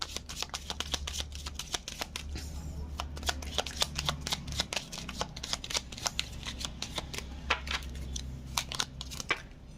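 A deck of oracle cards shuffled close up, rapid crisp riffles and slaps repeating in quick bursts for several seconds, with no voices over them.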